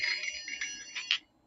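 Chinese Baoding balls with bells inside chime as they are handled, giving several bright, overlapping metallic rings in quick uneven bursts that fade away after about a second.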